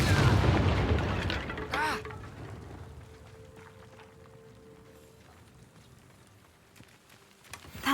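A Confringo explosive spell cast in the video game Hogwarts Legacy erupts in a loud, booming burst at the start, then decays into a fading rumble and quieter game ambience, with a voice briefly present.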